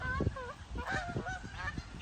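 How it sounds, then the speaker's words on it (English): Geese honking in a park, several overlapping calls at moderate distance over steady outdoor background noise, faint and intermittent. "Like those birds are really entertaining to me."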